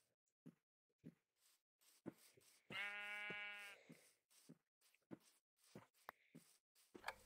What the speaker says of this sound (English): You guys like wheat? Oh, you do. Sheep's like wheat.